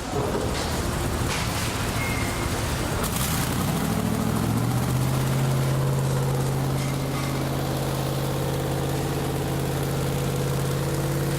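A Ford 5.4 Triton V8 engine idles with a smooth, steady hum that settles into a low, even drone, close by and uninterrupted.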